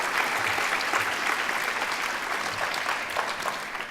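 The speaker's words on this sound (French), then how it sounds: "Je vais applaudir moi tout seul" Steady applause from an audience at a French thesis-presentation competition introduction, dense and even clapping heard from the room throughout.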